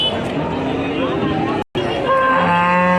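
Punganur cattle at a village cattle market low with one sustained moo near the end, heard over the hubbub of crowd chatter and someone talking nearby.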